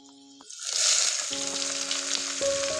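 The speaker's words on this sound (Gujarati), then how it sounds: "હવે અંદર આપણે ડુંગળી નાખશું" Chopped onions tipped into hot oil already holding cloves, cinnamon, garlic and cumin, setting off a sudden loud hiss that swells and then settles into a steady close sizzle, with a faint tonal hum underneath.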